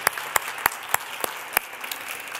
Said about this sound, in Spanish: Les pido un gran aplauso para ellos para que disfrutemos de esta ponencia de hoy